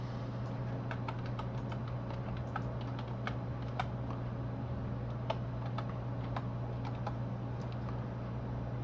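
Close, quiet tapping of a computer keyboard as a Wi-Fi password is typed in, irregular keystrokes continuing throughout over a steady low hum, no talking.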